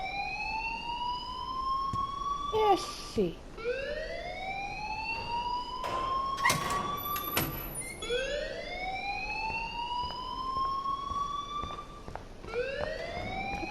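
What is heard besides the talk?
alarm ringing in the video game Life is Strange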